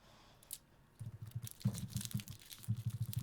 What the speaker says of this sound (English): That's the sound of me getting a cough drop.